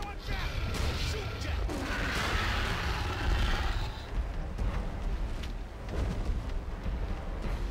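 Gunfire and chaotic impacts from a King Kong video game's dinosaur-shooting scene rumble continuously under a booming, dense mix of explosions and creature noise, with faint in-game voices.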